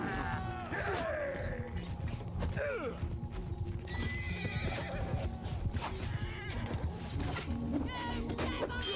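Cavalry gallops in Mount & Blade II: Bannerlord, a steady drumming of many hooves close by, with horses neighing and whinnying now and then over the running mass of the charge.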